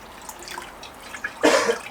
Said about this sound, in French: Hop, on ajoute le bouillon.